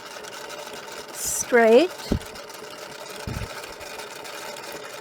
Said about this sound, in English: we're just going to stitch down